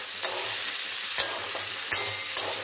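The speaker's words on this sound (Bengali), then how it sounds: "তো সবজিটা ভাজাভাজি করে নিয়েছি, এবার দিয়ে দেবো বাঁধাকপি।" Vegetables fry in an oily wok, giving a steady close sizzle broken by four evenly spaced sharp scrapes of a spatula against the pan, with no talking.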